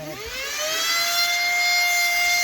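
A spinning jewelry stitching machine gives off a steady rising whine that settles into a sustained tonal hum with bright harmonics, loud and continuous, with no voices.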